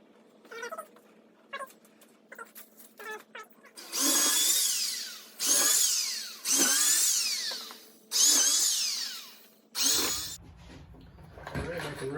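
A power drill drives screws down from the top into a wooden camper shell storage rack in five loud, sustained bursts, each winding down at the end, with quieter clicks and handling between them.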